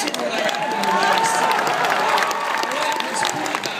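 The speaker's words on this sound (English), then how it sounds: "see how we're getting kind of a half applause?" An audience gives a half-hearted round of applause with scattered clapping and some crowd noise. It is moderately loud and continuous for a few seconds.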